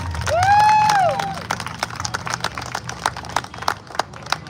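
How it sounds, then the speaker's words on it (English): A crowd claps and cheers in a busy burst of applause, with a high whistle-like tone rising and falling near the start. "round of applause for Scott or Steve and Wally"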